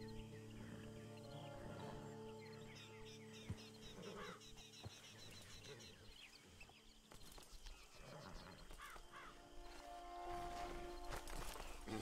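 Horse hooves clip-clop in a cowboy-themed video game, a steady rhythm of hoof strikes moving among game ambience, music and occasional bird calls, moderately faint in the mix.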